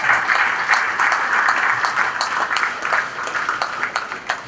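At a National Prayer Breakfast, an audience gives a hand clap of praise in lively applause. Sharp individual claps stand out across more than four seconds of dense, close clapping.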